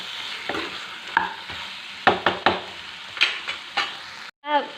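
Marinated chicken fries with salt in a pan while a utensil stirs it, producing irregular scraping strokes over a steady low sizzle, close and clear.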